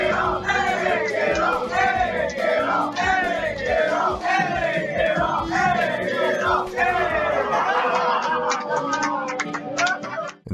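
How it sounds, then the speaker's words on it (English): A Super Smash Bros. Melee tournament crowd chants in loud rhythmic unison, repeating the same call several times before it breaks into scattered cheering and clapping. "The crowd begins chanting, demanding the mask come off."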